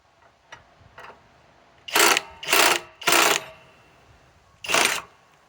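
A Menards Master Force Boost hydraulic impact driver, model 2410-358 with a 2.5 amp boost battery, loosening a bolt: three loud close hammering bursts in quick succession, a pause, then a fourth burst after a few faint clicks.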